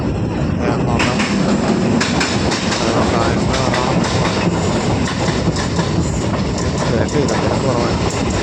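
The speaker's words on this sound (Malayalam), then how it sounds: "1 മിനിറ്റത്തെ സ്റ്റോപ്പിന് ശേഷം വണ്ടി ഇവിടെ നിന്ന് എടുത്തിരിക്കുകയാണ്." Parasuram Express pulling out of a station after a one-minute stop, a loud, continuous rumble with rattling wheels and clatter, heard from inside the train.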